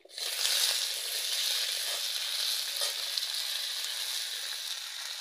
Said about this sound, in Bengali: ফুলগুলো আমি এবার কড়াইতে দিয়ে দিচ্ছি।